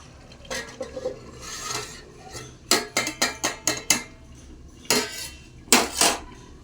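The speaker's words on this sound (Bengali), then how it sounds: "দিয়ে আমি এখন কড়াইটায় চাপা দিয়ে দেবো" A metal lid is set on a wok of simmering spinach curry: a run of sharp clanks and rattles, several in quick succession, then two more louder knocks, close and with no one talking.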